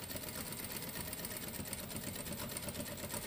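Sewing machine stitching a collar seam at a 5/8 seam allowance on a Vogue 1714 mockup, a steady continuous mechanical whir running throughout at moderate level with no talking.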